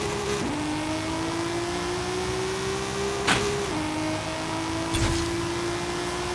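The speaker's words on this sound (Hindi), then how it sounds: "तो गाड़ी को लॉन्च करके देखते हैं अपनी ड्रैग ट्यून्ड गाड़ी कैसी परफॉर्म करती है" A drag-tuned car launches and accelerates hard in Forza Horizon 5, its engine whining up steadily through the gears with sharp shift breaks between pulls, loud and close.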